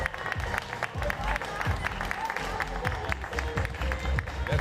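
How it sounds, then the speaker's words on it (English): Crowd applause at the 2024 Nordic street workout championship, a dense, continuous patter of clapping that holds steady throughout, with voices mixed into the noise. "A big round of applause for Julia, everybody"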